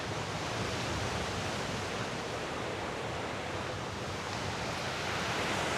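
Ocean surf rolls in steadily beside a walking track in Port Douglas, a broad, unbroken wash of wave noise at moderate volume with no distinct individual breakers and no voices.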